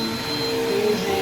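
A vacuum cleaner built for pet hair runs steadily at close range, a continuous motor whine with a strong tonal hum and no voices.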